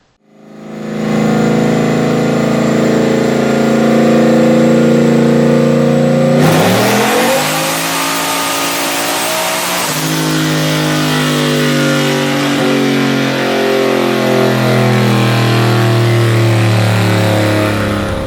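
A turbocharged Nissan VK56 V8 on a dyno revs hard and loud in a sustained pull, its pitch climbing, dropping sharply, then holding at high revs for many seconds.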